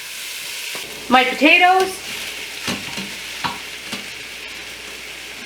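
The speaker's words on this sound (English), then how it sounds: "I'm going to stir in my garlic." Garlic is stirred into softening carrots, celery and onions in a pot for lentil soup with ham, with soft scattered spoon clicks and a faint simmer after a brief spoken remark.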